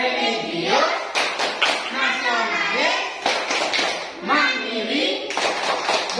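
A classroom of children doing the 'tepuk PPK' clapping chant, sharp rhythmic hand claps landing between loudly chanted words, close and lively throughout.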